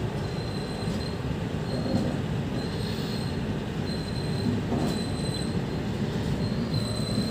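A Lucknow to Bareilly passenger train, the 03423 Bhagalpur–Haridwar special, runs with a steady, loud wheel-and-carriage rumble and recurring high metallic wheel squeals throughout.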